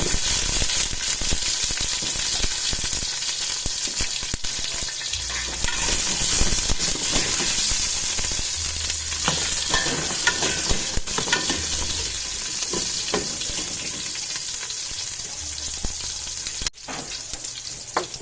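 Onions are stirred and sautéed in a hot pan, giving a steady, loud sizzle throughout with frequent scraping and clinking of the utensil against the pan, close up, and no one talks.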